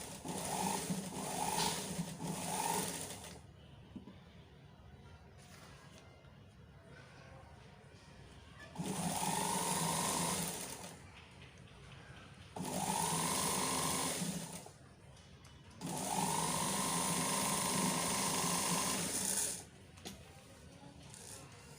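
A sewing machine stitches a strip onto a sleeve, running in four steady bursts separated by short pauses, loud and close with a hum and whir.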